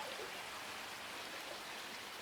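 Pond treatment chemical is poured into a koi pond, giving a faint, steady watery hiss and trickle with no breaks, heard softly and without voices.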